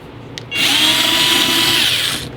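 A power screwdriver spins out a screw from a Pioneer PD-M430 CD player's casing, a steady close whirring buzz lasting about two seconds after a brief click.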